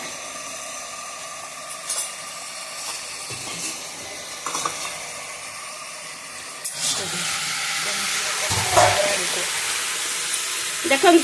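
Fish frying in a pan for chilli fish, a soft continuous sizzle and hiss with occasional stirring clatter, growing louder toward the end while a person talks.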